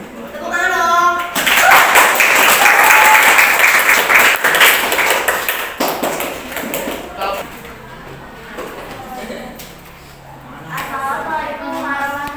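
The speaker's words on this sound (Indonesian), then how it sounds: "Tepuk tangan dong." A class group in an Indonesian classroom breaks into lively clapping that rises loud and dense, then thins out as the clapping fades, with children and a teacher talking over and after it.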